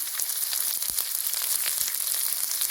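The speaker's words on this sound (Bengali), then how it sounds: "এবার কুচনো পেঁয়াজটা দিয়ে দিলাম।" Chopped onion sizzles in hot oil with a steady hiss broken by scattered pops and crackles, fairly close and with no speech.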